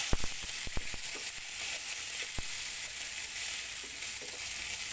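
Ginger, green chili and coriander frying for rava idli give a steady, close hiss of sizzling oil throughout, with a few brief utensil taps near the start.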